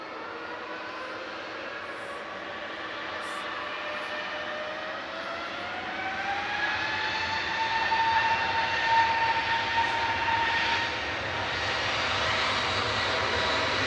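An airliner powered by Pratt & Whitney engines roars at Manchester Airport, a sustained, distant jet drone with whining tones that swells midway and then eases off slightly.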